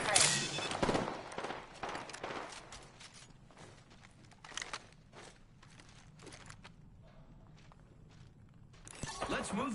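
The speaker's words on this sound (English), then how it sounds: "Opening fire on our prey." Gunfire rattles out in Apex Legends, with irregular bursts of shots spread across the stretch alongside footsteps and mechanical clatter. The shots are loudest at the start and return near the end.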